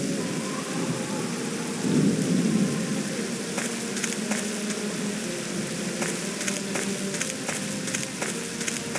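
Storm in the Agatha Christie game And Then There Were None, with steady heavy rain hissing on surfaces and a low rumble of thunder swelling briefly, then patter continuing with faint scattered drips.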